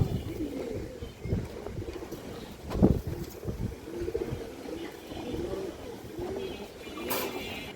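Pigeons coo softly in repeated low, rolling calls amid a busy loft, with rustling and occasional sharper bird noises scattered through, all moderately faint and close.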